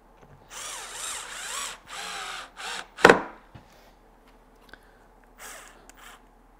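Power drill driving screws into wood while building workshop jigs from scrap: several short whirring bursts, a sharp knock in the middle, then fainter taps and one last brief whir, close and without talk.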